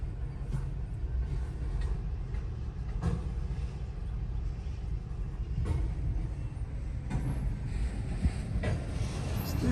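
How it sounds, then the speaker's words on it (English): A very long train rolls past a railroad crossing, its steady low rumble and clatter continuing without a break, with occasional louder clunks and some wind noise. "I've never seen a train this long."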